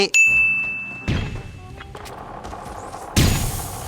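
Gunfire in the video game Arena Breakout, with a few heavy impact shots spaced across the moment, loud and near over a low background rumble and faint tones.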